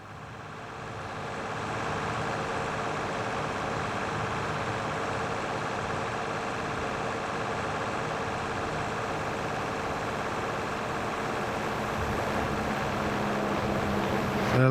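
Helicopter flying overhead in the video game Farming Simulator, a steady loud rotor and engine drone that holds at an even level throughout after a short rise at the start.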